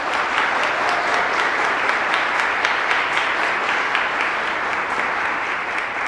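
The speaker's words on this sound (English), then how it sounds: "Could we give them a round of applause?" A parish audience applauds steadily throughout a meeting hall, a dense, even wash of many hands clapping at fairly loud level with no pause.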